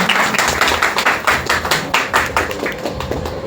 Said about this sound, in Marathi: त्या आपल्या दुर्गांसाठी एकदा टाळ्या झाल्या पाहिजे, कडकडून टाळ्या झाल्या पाहिजे